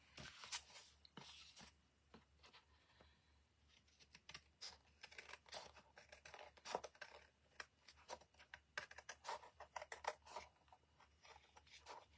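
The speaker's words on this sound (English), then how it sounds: "you're cutting through 2 lots of cards, so it's a bit stiffer than normal when you're cutting your cardstock" Scissors cut through two layers of cardstock for a snow globe stamp project, giving a faint, close run of quick crisp snips and crunches in an otherwise quiet room.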